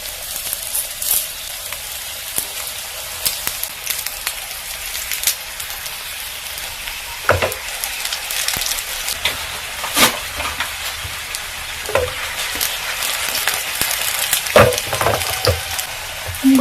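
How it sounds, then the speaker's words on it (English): Soya vegetable rolls shallow frying in oil give a steady close sizzle with scattered pops and crackles throughout, no voices. "I'm just going to shallow fry this."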